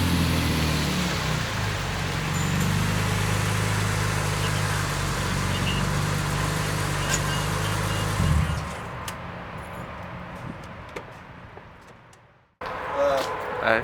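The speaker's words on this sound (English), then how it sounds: "this car's pretty loud right now" A loud BMW M3 GTR engine idles with a steady low rumble for several seconds, then drops away, leaving quieter background before a brief return of sound at the end.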